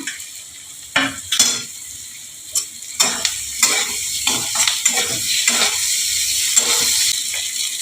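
Potatoes frying in a pan for a bitter gourd dish, a steady close sizzle broken by several sharp bursts and scraping stirs of a utensil against the pan.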